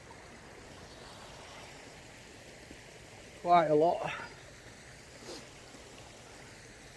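A river flows steadily beside a woodland trail in Ecclesall Woods, Sheffield, a soft continuous wash of water running throughout, with a brief burst of speech partway through.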